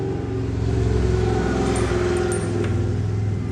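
Several Hell's Angels motorcycles rumble past outside in a steady, loud, low engine drone that holds for the whole stretch with no voices.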